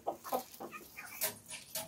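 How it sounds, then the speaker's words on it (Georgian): Small rooster clucking close by in a short, uneven series of soft, throaty clucks and chortles, with light background noise and no talk. "ჩემი პატარა მამალა"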